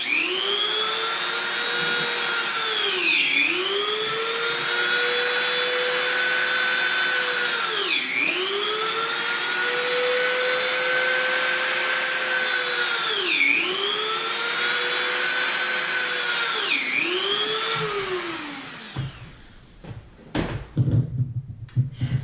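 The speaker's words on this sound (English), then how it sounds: "And I just take the Dremel, and now I just go in and out." A Dremel rotary tool whines loudly and steadily while cutting holes in a bungee collar, its pitch dipping briefly four times as it pushes in and out, then cutting off before scattered handling clicks.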